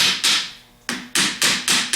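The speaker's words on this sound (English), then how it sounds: "tap the bottom plate one way or the other so that the bolt holes line up exactly" Sharp metallic taps against the bottom plate of a 4G alternator rectifier while the bolt holes are lined up: five close, bright strikes, the later ones in quick succession, each with a short ringing decay.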